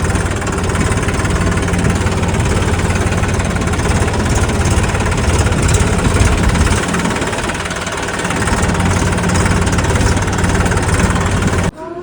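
A new tractor's engine runs close by, a loud, steady diesel rumble with knocking vibration that holds throughout and cuts off sharply near the end.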